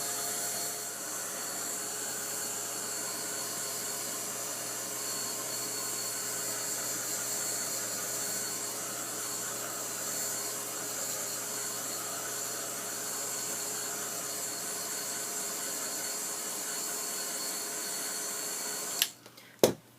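A heat tool drying paint gives off a steady, even whirring blow with a faint tonal hum for the whole time, then cuts off with a couple of sharp clicks at the end.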